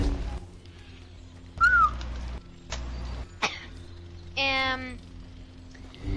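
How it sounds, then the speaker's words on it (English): A few short whistles from people playing a game, each brief and fairly clear, with a rising-falling tone early on and a longer wavering whistle later, separated by quiet stretches. "whistle when you're done"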